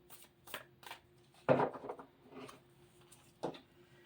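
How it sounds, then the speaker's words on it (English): Soft papery riffling and shuffling of cards in irregular bursts, close and fairly quiet, with a few sharper snaps between the pauses. "I want to give it a good shuffle"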